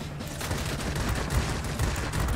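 Anti-aircraft guns fire in the World of Warplanes video game as a loud, dense, continuous crackle of rapid gunfire that holds steady throughout.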